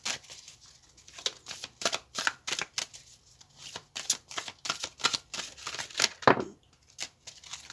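Traditional tarot cards are shuffled by hand in a close, quiet room, a string of crisp riffling bursts and soft slaps repeating in an irregular rhythm for several seconds.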